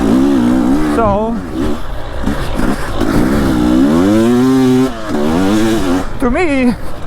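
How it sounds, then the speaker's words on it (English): A two-stroke motorcycle engine revs loudly and close by, its pitch swooping up and down in repeated bursts, with a brief drop in sound between revs. "the noise, it doesn't really bother me because it's a two-stroke and I kind of like it when it revs"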